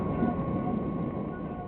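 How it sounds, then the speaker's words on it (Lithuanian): A passenger train rumbles steadily with a continuous low mechanical drone, heard from inside or close by, with no distinct voices. "Elektrinis traukinys susideda iš 3 vagonų."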